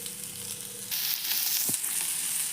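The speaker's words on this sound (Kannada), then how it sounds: "ನೋಡ್ರಿ ಈ ಥರ ಕರಿಯಾಕತ್ತಾವು" Sliced okra sizzles in hot oil, a steady close frying hiss that swells louder partway through, with a brief scrape of stirring.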